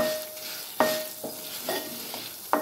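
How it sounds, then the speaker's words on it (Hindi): Chilies roasting in a pan over low heat for a fresh mint leaf pickle, a quiet dry sizzle broken by four or five sharp scraping stirs of a spoon, no talking. "तो इसको हम धीमी आंच पे 3 से 4 मिनट तक भून लेंगे"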